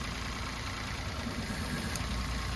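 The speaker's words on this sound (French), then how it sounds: "Pareil, le moteur ne tourne pas bien." Car engine idling roughly with one ignition coil unplugged, a steady uneven low rumble with a faint high whine, heard close and continuous.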